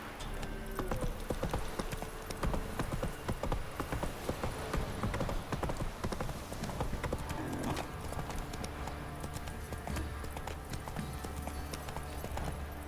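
Roach, the horse in The Witcher 3, gallops with continuous rapid hoofbeats at a steady pace, fairly close and even over light game ambience.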